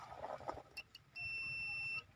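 A multimeter set to continuity mode gives one steady electronic beep of under a second during a car immobilizer repair check, faint and alone after brief handling noise.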